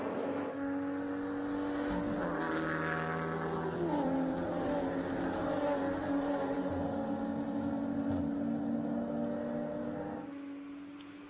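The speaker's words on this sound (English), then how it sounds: "Those three BMWs are chasing down that Nissan Streamer right now." Touring race cars, three BMWs chasing a Nissan, at Lime Rock Park during a 2018 Pirelli World Challenge round, make a steady, loud engine drone of several overlapping tones that rise and shift in pitch as the cars run close together.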